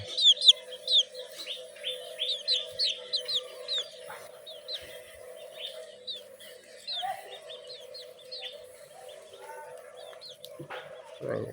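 A 15-day-old chick lets out rapid, high, repeated peeps, dense at first and then sparser, with a steady hum running underneath.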